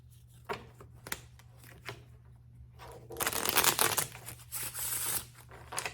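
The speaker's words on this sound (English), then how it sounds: "the dealer will gather all the cards and shuffle" Playing cards being gathered and shuffled by a dealer at a seven card stud poker table, with soft scattered flicks and taps followed by a louder, dense riffling burst, close and alone.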